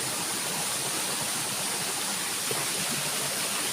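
A waterfall in a stream near Ban Na Ang pours in a constant broadband rush, dense and close, with no talking.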